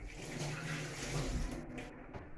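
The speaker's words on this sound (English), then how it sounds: "Let's wash my hands." Hands washed under a running kitchen tap, a steady close wash of flowing water with light splashing that thins out toward the end.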